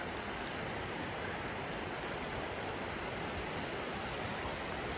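A river flows near a campground at Spence's Bridge, a steady, dense rushing of water with even, unbroken loudness and no talk.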